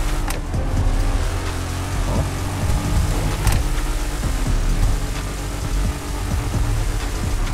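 Honda NC 700 motorcycle engine in GTA V, a continuous close, loud engine rumble with a few sharp clicks and bursts over about seven seconds, alone without speech.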